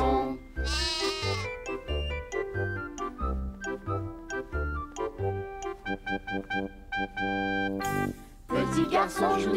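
Sheep bleating in a French children's song about a little shepherdess who lost her sheep, with repeated bleats woven through a bright melodic musical backing with bell-like jingles, loud and steady throughout.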